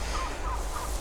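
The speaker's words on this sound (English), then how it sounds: "I can hear chickens." Chickens cluck at an allotment, a few brief mid-pitched calls over a low steady rumble of background noise.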